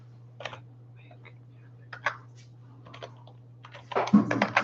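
Keys clack on a stiff computer keyboard whose buttons need a hard push, in scattered bursts of typing that build into a faster flurry at the end, over a low steady hum.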